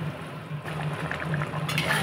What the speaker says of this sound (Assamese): এতিয়া মই এইখিনি আকৌ অলপমান সময় উতলিবৰ কাৰণে ৰাখি দিম